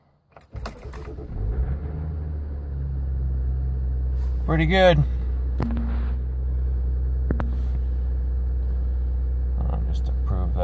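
A 2016 Ram EcoDiesel truck engine cold-starts after cranking in freezing weather, then settles into a steady, loud diesel idle rumble with a few clicks and brief jangles; someone speaks briefly over it.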